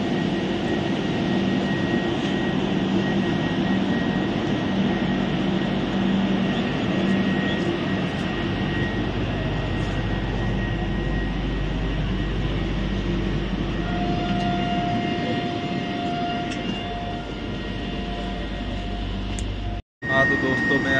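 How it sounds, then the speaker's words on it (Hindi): A passenger train stands at Sabarmati railway station, producing a steady, loud engine rumble with a constant hum over the platform ambience, ending in a sudden cut. "मेरी ट्रेन खड़ी है, मैं आपको दिखाता हूँ।"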